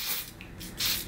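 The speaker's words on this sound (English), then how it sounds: "Oh, I'm gonna spray it now." Melvita Organic Rose Beauty Mist is sprayed from a bottle in short hissing bursts, soft and close, with a brief pause between them.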